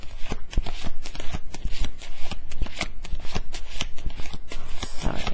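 A deck of tarot cards shuffled by hand during a reading, giving dense, rapid riffling and flicking with frequent sharp slaps, continuous and close.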